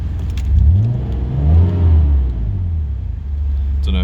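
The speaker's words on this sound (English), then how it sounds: "It's got a nice growl to it." A Nissan Skyline R33 GTS coupe engine revs up and down a few times with a deep growl, rising and falling in pitch over a steady idle, close by.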